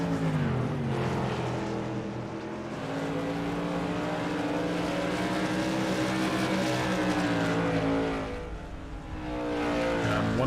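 Several race cars from the iRacing SRL Modified Tour circle the oval at Indianapolis Raceway Park, their engines droning steadily in layered, overlapping tones with slight pitch shifts as the cars pass, with no talk over them.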